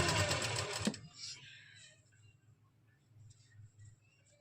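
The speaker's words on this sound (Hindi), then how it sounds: "इस तरह से हम क्रीज को मिलाते हुए पूरे में बड़े टांके की सिलाई लगा देंगे।" A sewing machine runs briefly, stitching long basting stitches through a lined suit while matching the crease, a quick close whirring burst that stops after about a second, followed by faint room noise and a few soft handling sounds.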